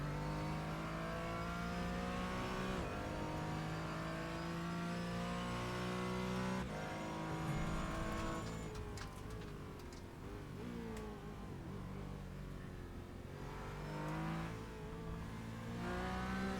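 A Porsche Cayman on the Zolder race track revs up through the gears, its engine rising and falling with shifts, heard steadily from inside the car, with no talk.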